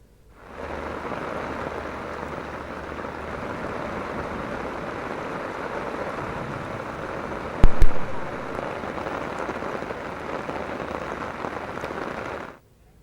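Heavy rain falls in a steady, dense hiss of drops on surfaces, close and constant, with a brief louder knock near the middle.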